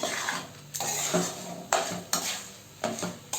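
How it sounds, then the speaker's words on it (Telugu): Spoon scraping and stirring mashed potato with onions into tempering in a metal pan, with repeated sharp scrapes and knocks every second or so, close by. "తాలింపులో వేసి అంతా కలిసేలాగా బాగా కలపాలి"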